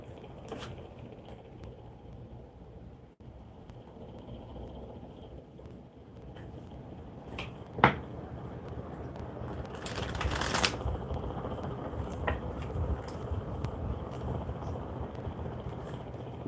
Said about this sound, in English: Let's get the cards shuffled and get Carol your reading, my love.